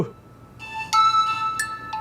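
A phone ringtone plays a short run of bright electronic tones, a few clear notes in quick succession, close and fairly loud.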